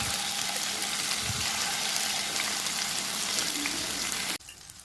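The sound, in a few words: boneless chicken pieces, marinated in turmeric and salt, frying in oil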